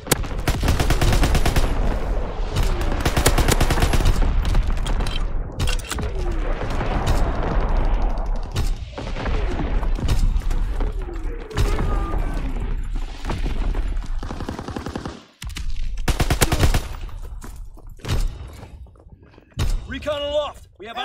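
Artillery strike in the World War II shooter Call of Duty WW2: a rapid barrage of loud gunfire and heavy explosive booms rolling through most of the stretch, with short gaps and a few final blasts near the end.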